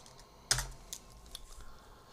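Typing on a computer keyboard while working in Houdini: a sharp first keystroke followed by a few lighter, irregular taps, close and quiet with no voice.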